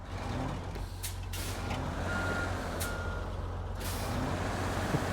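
In the SnowRunner video game, a truck's air brakes release several sharp hissing bursts while a steady reversing beep repeats underneath over a constant low engine rumble.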